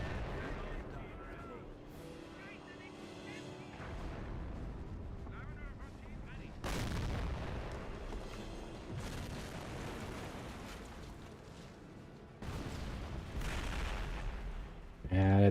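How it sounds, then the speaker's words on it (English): Artillery barrage in a strategy video game: repeated heavy booms and rumbling blasts layered over a continuous roar of distant explosions, with a speaker talking over the din throughout. "Yeah, that's not gonna be a good barrage."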